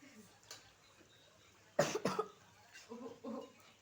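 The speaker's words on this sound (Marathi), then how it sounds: "आमचा जरा खोकला आलाय" Someone coughs twice in quick succession, close and fairly loud, followed by a few softer voiced sounds in a quiet room.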